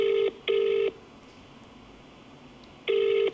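A telephone keypad dials out for a call: three short, loud, steady touch-tone beeps, two close together at the start and one after a quiet pause, with no voices.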